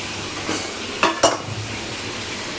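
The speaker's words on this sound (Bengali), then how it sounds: "এবার আমি এই যে ভেজে রাখা চিংড়ি মাছগুলো দিয়ে দেবো" Fried prawns are tipped into a hot pan and stirred, with a steady sizzle beneath two sharp clatters of the spatula against the pan, heard up close.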